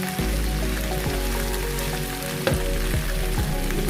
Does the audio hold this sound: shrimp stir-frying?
yes